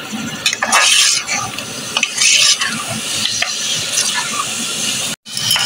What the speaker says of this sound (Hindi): चिकन डाल के अच्छे से मैं भूनूंगी, आंच थोड़ी तेज़ करती हूँ